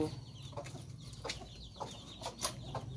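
Pet chicks peep and cluck in scattered bursts inside a newly built coop, fairly close with steady background noise and no talking.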